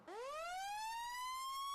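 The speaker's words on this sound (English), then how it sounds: "The city of Pickens is bringing back the outdoor warning siren." An outdoor emergency warning siren in Pickens, mounted on a water tower, rises quickly from a low start to a steady high wail that holds loud and alone.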